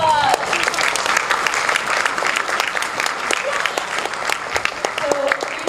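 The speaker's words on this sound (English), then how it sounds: "Give them another round of applause." Sustained applause from a concert audience at a high school and middle school orchestra spring concert fills the hall, dense steady clapping heard at moderate distance.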